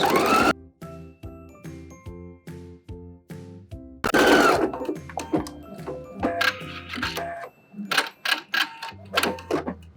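A sewing machine stitches a half-inch underarm seam on a puff sleeve, with short rhythmic bursts of clattering needle action broken by brief pauses and a busier stretch midway.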